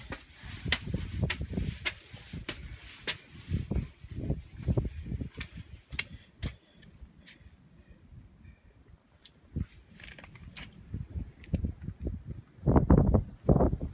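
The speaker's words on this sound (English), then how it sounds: "Ooh, that wind is really whipping up through the valley." Wind gusting up through a valley on the Appalachian Trail, buffeting the microphone in loud irregular thumps and rushes, with quieter lulls between gusts.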